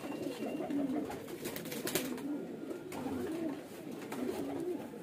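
Pigeons for sale coo in a low, throaty, repeated rhythm, close and fairly loud, with a faint background hum and some flutter.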